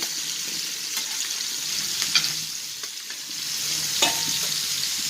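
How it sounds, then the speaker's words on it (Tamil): Anchovies roast and sizzle on a thick-bottomed tawa, a steady close hiss with a few light scraping stirs and no voices. "அப்படியே மீன் ரோஸ்ட் ஆகட்டும்."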